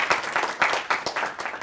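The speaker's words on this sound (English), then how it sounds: "Let's give Robert a big round of applause" A small audience claps for a performer on a bus, with brief bursts of hand claps arriving in a quick, uneven rhythm over less than two seconds.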